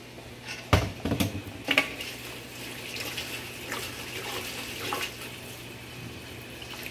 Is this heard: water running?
yes